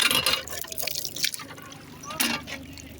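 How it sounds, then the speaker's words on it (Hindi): Water flows steadily from a hand pump tap, a soft continuous trickle and splash close by, with people talking over it. "इस नलके का आप वाटर लेवल चेक करें।"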